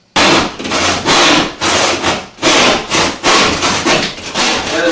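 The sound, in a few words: Stanley shark tooth hand saw cutting Durock backer board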